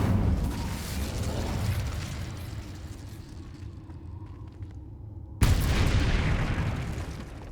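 A fiery Incendio spell cast in Hogwarts Legacy, heard as a dense roaring whoosh that fades, then a sudden loud burst of flame that keeps rumbling to the end.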